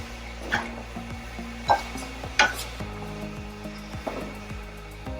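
Snow peas and duck meat sizzle steadily in a hot stir-fry pan, with faint scraping and occasional clicks of utensils over a low kitchen hum.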